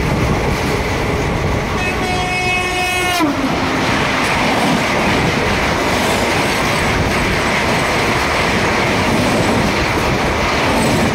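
A passenger train runs through a forest, a loud steady roar of wheels and carriages with a horn sounding at the start and then cutting off, the rumble carrying on without pause.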